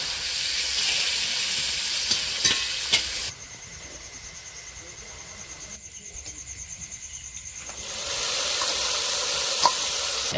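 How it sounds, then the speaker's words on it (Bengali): Bitter gourd frying in a pan during late-night cooking for a puja feast gives a continuous hissing sizzle that drops away midway and returns, with faint taps and crickets chirping around it. "এখানে হচ্ছে কি করলা ভাজা হচ্ছে"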